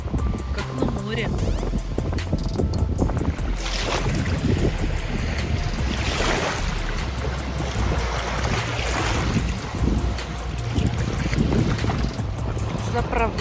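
Strong gusting wind buffets the microphone over choppy waves on a mountain river in Yakutia, a continuous rough rushing roar with surging bursts, while a voice talks over it.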